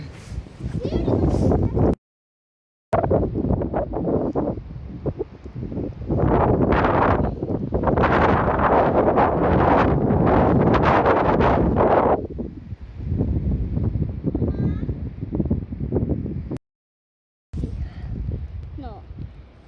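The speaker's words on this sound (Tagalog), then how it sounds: "Snowstorm." Strong gusting snowstorm wind in Värmland, Sweden roars and buffets the microphone in heavy surges, with people's voices talking through it and brief dropouts of silence.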